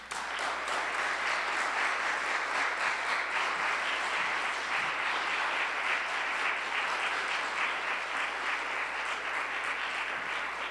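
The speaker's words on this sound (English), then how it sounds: "please welcome her with a warm round of applause" An audience gives a warm round of applause in a college hall, a dense, steady clapping that holds at full strength for about eleven seconds with no speech over it.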